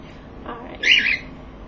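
A pet bird gives a short, shrill call up close in a quiet room, one brief squawk after a softer sound.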